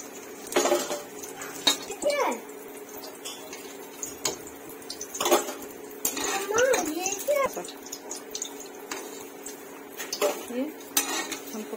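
Metal utensils clink and scrape against a pan and dishes as fried pakoras are lifted out in a home kitchen, with irregular close clatters and someone talking over them.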